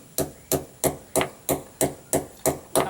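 A hammer drives a dynabolt anchor into a drilled hole while a satellite dish is being mounted, striking eight loud, evenly spaced metallic blows close by with no talk.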